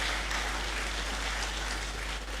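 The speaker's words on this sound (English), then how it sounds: "I think we can clap here for God as well." Audience applause at a university congregation ceremony in a great hall, a steady dense patter of many hands clapping throughout, fairly distant and soft.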